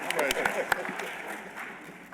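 An audience at an American Pinball seminar during the Texas Pinball Festival 2023 applauds the speakers with a short burst of steady clapping, a voice audible over it.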